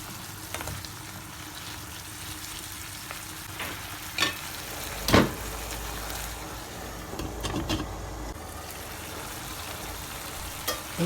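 Water pumpkin, tomato and red chilli cooking in a covered pan for a vegetarian sothi, giving a steady soft sizzle and bubbling with a few sharper pops and clinks near the middle; nobody speaks.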